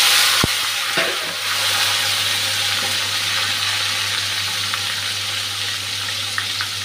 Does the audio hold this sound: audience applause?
no